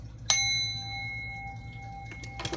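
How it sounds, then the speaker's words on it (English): A single bright bell strike, used for energy clearing, rings out and sustains with a long, shimmering decay, fading slowly before a brief rustle at the end. "let me go ahead and clear this energy with my bell"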